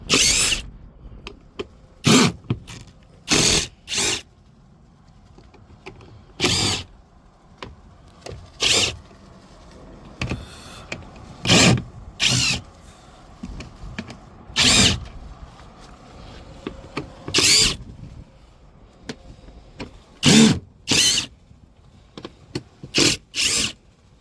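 A power tool whirs in short repeated bursts, about twenty separate spins with pauses between, removing Torx T45 screws from a Freightliner Cascadia truck door, close and loud.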